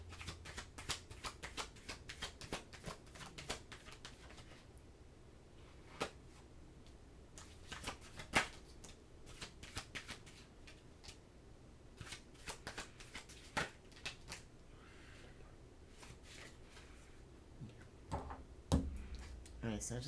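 Tarot cards being shuffled by hand, a rapid run of crisp riffling flicks and taps with short pauses, close to the microphone and fairly quiet.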